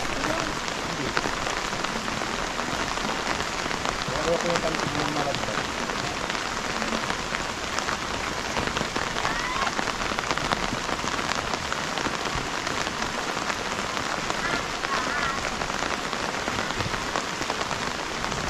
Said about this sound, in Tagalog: Kung ganito lang alalay na ulan